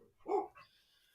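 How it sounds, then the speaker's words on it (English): A single loud dog bark close by, with a softer follow-up yelp, breaking into a live call-in sports show. "Dog."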